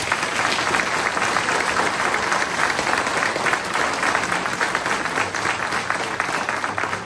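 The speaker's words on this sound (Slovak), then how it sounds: "obrovský potlesk" A large audience at a concert in Liptovské Revúce gives dense, sustained applause that stays loud and even from start to finish, with no pauses.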